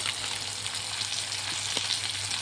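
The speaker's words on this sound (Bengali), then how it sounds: "মাংস ভাজি পায়ে হয়ে গেল, আর অল্প হলে হয়ে যাবে" Meat fries in a pan with a steady, dense sizzle and crackle, a low hum underneath and one brief sharper tap, heard close at a moderate level.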